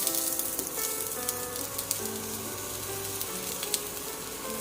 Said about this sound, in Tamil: இப்போ கட் பண்ணி வச்சுருக்க ஒரு 2 மீடியம் சைஸ் வெங்காயத்தை நான் இதில் ஆட் பண்ணிக்கிறேன்.